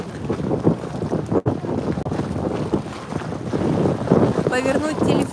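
Strong wind buffets the microphone in heavy gusts, roaring and flapping nonstop with a faint voice now and then underneath.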